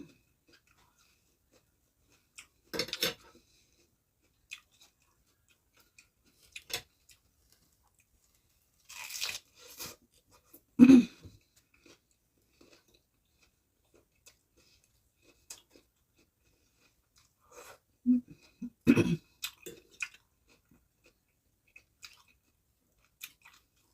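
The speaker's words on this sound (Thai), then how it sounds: "คี้ยวต้องระวังจ้ะถั่วลิสงมันแข็งกรอบ" Crunchy, hard peanuts being chewed: several close, sharp crunching bursts separated by long quiet gaps, with no talking.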